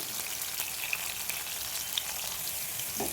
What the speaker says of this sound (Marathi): त्याच्यासाठी बघा हे असं आपल्याला आलटून पलटून चांगलं असं मऊ होईपर्यंत तळून घ्यायचं आहे.